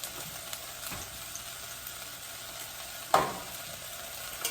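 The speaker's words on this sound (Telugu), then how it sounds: "కొంచెం పచ్చివాసన పోయేదాకా ఇది వేయించుకోవాలి." Green chillies and curry leaves fry in a pan with a constant fine hiss and crackle, close and even, marked by a single sharper tap or scrape partway through; nobody speaks.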